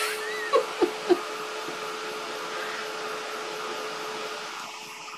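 A hair dryer blows steadily over a painted butterfly to dry it, a constant close whir with a faint hum that runs throughout after a few quick clicks near the start.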